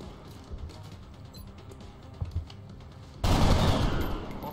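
XCOM Long War combat gunfire starts as faint scattered shots, then breaks into a loud, sustained automatic burst near the end.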